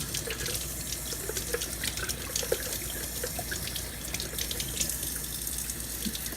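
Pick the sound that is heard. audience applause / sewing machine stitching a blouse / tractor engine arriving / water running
water running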